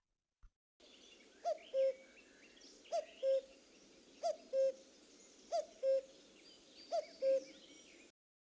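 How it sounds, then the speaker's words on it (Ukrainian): A cuckoo calls five times, each a clear two-note 'cu-coo', evenly spaced and steady against a quiet, faintly hissing background. "Зозуля кукукає."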